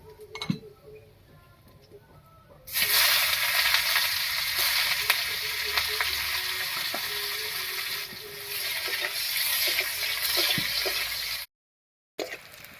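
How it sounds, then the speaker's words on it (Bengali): Chopped onions frying in mustard oil: a quiet start with a few clinks, then a loud, steady sizzle rushes in and holds, close up, before cutting out briefly near the end. "পেঁয়াজটা লাল লাল করে ভেজে নিয়েছি"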